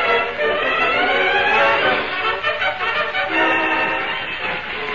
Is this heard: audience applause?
no